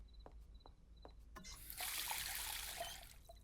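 A cartoon mother pours water for a child, Simon the rabbit: a steady, soft splashing stream rises after a few faint clicks and tones, runs for about a second and a half, then tapers off, with no talk over it.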